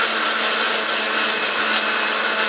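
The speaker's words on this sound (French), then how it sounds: "On met notre mixeur, sur le sol. On mixe à peu près 4 à 6 secondes." A blender whirs loudly and steadily, mixing a detox drink in one continuous high-pitched blend with no voices.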